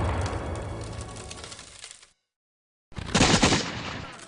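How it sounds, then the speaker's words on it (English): Heavy artillery barrage of cannon and mortar fire during the siege of Charleston, loud dense booming and cracking blasts that break off into a short silence, then resume even louder. "the British rain a constant barrage of cannon and mortar fire down upon the town"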